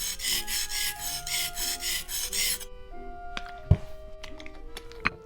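Steel knife blade drawn back and forth across a whetstone, steady rhythmic rasping strokes up close for the first half, then quieter scrapes with a couple of sharp knocks.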